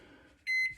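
A microwave oven beeps once, a short loud electronic tone standing alone after a faint stretch of room noise, while pizza nachos are heated in a kitchen.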